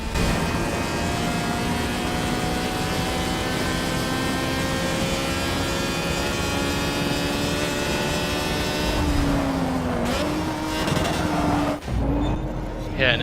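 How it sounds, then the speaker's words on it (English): A Wankel rotary engine in a Japanese import race car in Forza Motorsport 7 drones loudly and steadily with a buzzy, harmonic tone, then stutters and pops near the end as the revs drop. "Yeah, nice big kickback from the motor."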